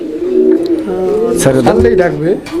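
Pigeons at a pigeon market coo in a series of throaty, rolling calls up close, loud and overlapping, with a voice talking over them.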